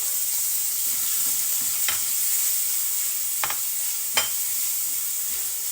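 Garlic and red onion sautéing in a frying pan, a loud steady sizzle close by with a few scraping stirs of a utensil against the pan.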